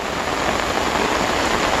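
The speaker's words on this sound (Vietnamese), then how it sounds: "Mưa to." Heavy rain pours onto a river during fishing, a loud, even, continuous hiss of drops with no pauses.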